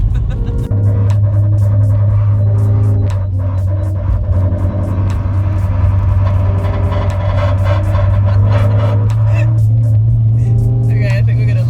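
A lowered Honda City idles and rumbles steadily as it creeps out of a driveway, its engine drone loud and close throughout, with people talking over it.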